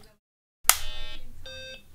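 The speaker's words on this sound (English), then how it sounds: "Let's hear the beep." A ROM programmer being plugged in gives off a loud electronic beep, one bright tone followed shortly by a second steady tone, each sounding cleanly on its own.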